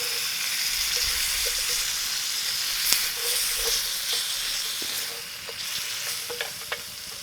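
Meat sears in a billy pot over a campfire in a snowy winter camp, with a steady close sizzle and hiss and a few scattered pops and scraping stirs.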